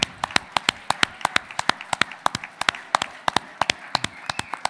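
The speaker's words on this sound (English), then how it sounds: "Boys and girls, why don't we give them a round of applause?" A small group at a board of education meeting claps in a sparse, uneven round of applause, sharp individual claps close by and distinct rather than blended, with no talking over them.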